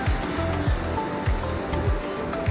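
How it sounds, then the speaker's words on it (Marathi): Surf washing onto a clean, secluded beach in Goa at sunset, heard as a steady, fairly loud rush of breaking waves with gentle rolling swells and no one talking. "स्वच्छ बीच आहे."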